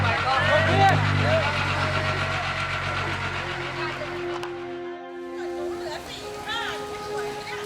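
A truck idles and rumbles with its engine close and steady, fading partway through as it is loaded with a young elephant in a Thai village, while a narrator speaks over the sound.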